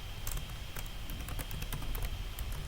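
Rapid typing on a computer keyboard up close, a steady run of crisp key clicks at an even, quick rhythm with no talking.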